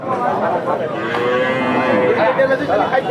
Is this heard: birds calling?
no